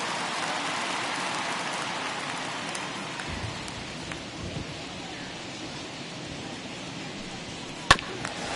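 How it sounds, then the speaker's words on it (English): Steady rain falls across an open-air Major League Baseball stadium during a Blue Jays at Yankees game, a continuous broadband hiss with faint low rumbles and one sharp brief crack near the end. "the conditions aren't ideal with the rain coming down"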